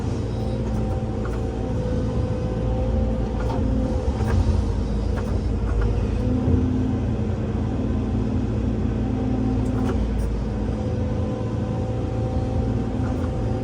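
A hydraulic excavator and tractor work together digging a farm pond, giving a steady, continuous diesel engine rumble at moderate distance with no breaks and no talking.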